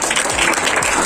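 An indoor audience gives a short, dense burst of clapping at a talk event, close and fairly loud throughout.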